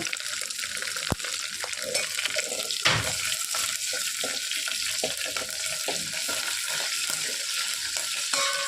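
Cumin and curry leaves in hot tempering oil crackle and sizzle steadily, with scattered stirring clicks and a sharp knock or two against the pan.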